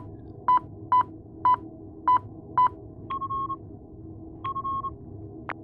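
Telephone keypad dialing: five evenly spaced short beeps, then two longer electronic tones with a brief click at the end, clear and close, with no talk.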